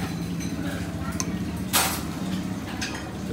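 A spoon stirs Jakarta-style soto in a bowl, clinking lightly against the dish with one sharper knock, beneath a busy, chattering restaurant background.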